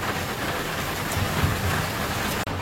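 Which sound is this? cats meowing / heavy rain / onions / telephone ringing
heavy rain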